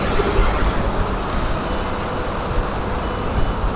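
Steady roar of a truck passing on a southern highway, heard from a moving Vario 160 motorbike, with constant road and wind noise filling the whole stretch without a break.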